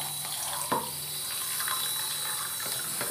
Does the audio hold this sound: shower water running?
yes